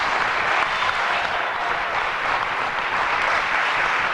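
Audience applause at a 1993 Miss Sternwheel Regatta pageant in Charleston, WV: steady, dense clapping from a crowd filling the whole stretch without pauses or talk.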